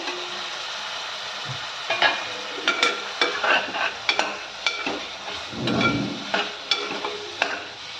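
Boiled, strained goat intestine frying in oil with a paste for Hyderabadi boti salan, a close steady sizzle with repeated scraping stirs and occasional clatter of a spoon against the pan.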